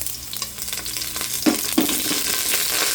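Ginger hits a hot non-stick pan with a steady crackling sizzle, with a couple of sharp clinks or pops partway through, close and fairly loud.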